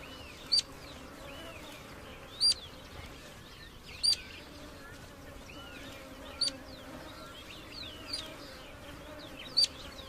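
Flying insects buzz in the Atacama desert as a faint, steady drone, broken every couple of seconds by short, sharp high chirps.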